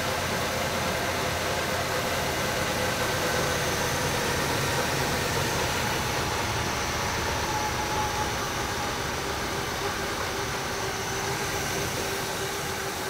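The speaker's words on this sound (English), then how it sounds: "See, it's idling a little fast." Steady, dense engine rumble of a 1965 Chevrolet Impala idling fast at a brisk, even rate for the whole stretch, loud and close with no pauses or voices.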